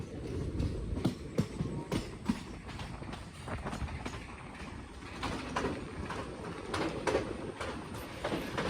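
A passenger train runs on the scenic Sakleshpur to Kukke Subramanya railway route. It makes a faint, continuous rumble broken by regular rhythmic clacks of the wheels over the rails, with no voices.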